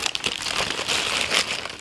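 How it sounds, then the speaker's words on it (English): Packaging rustles and crinkles close up while clothes are being shown, a continuous papery or plastic crackle with irregular louder bursts and no voice. "oops, sorry, lots of rustling noises"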